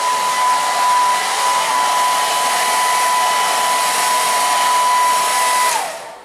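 A hair dryer runs steadily for several seconds, loud and close, as it dries wax-styled hair, then switches off and winds down at the end, with no talk.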